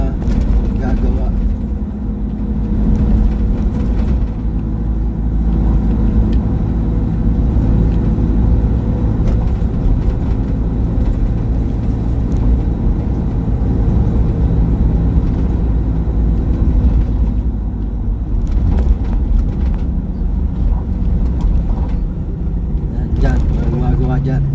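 Continuous road traffic with cars and motorcycles passing at a construction stretch, a loud steady rumble of engines and tires close by, with someone talking over it.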